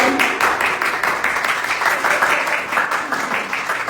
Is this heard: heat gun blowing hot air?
no